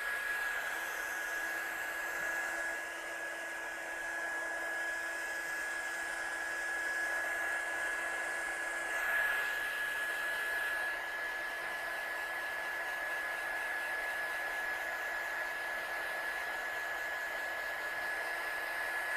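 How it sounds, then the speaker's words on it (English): A heat tool blows a steady, loud whirring hiss with a high fan whine while drying damp watercolour paint on a stamped papercraft piece, unbroken for the whole stretch. "I'll just dry it off a little bit more because it's still a bit damp"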